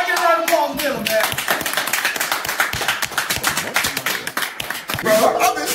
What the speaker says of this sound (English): Everybody get a round of applause for Denim, man.